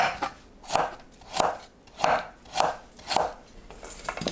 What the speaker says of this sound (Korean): 줄기 부분은 질긴 겉부분을 벗겨내고 얇게 썰어줍니다.